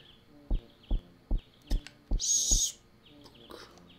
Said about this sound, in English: It's birds. I can hear it.